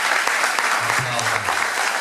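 Church congregation at a sermon applauds, a full, steady wash of clapping from many hands with a brief low voice murmuring underneath partway through.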